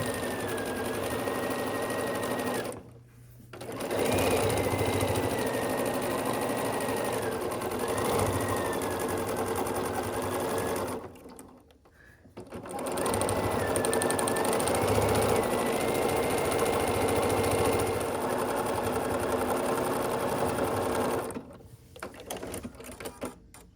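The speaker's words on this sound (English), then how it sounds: "Okay, I just finished sewing." Domestic sewing machine stitching a French seam on a cotton pillowcase, a steady fast mechanical whir and hum running for long stretches with two brief pauses between passes, close and alone.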